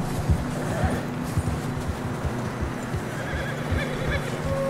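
A horse whinnies over a steady rhythm of hooves in Red Dead Redemption 2, riding through fresh snow, with a voice talking at times across the background.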